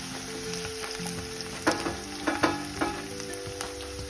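Onion and curry leaves sizzling in hot oil for a tempering, a steady close crackle with a few sharper pops and stirring clatters midway, no talking.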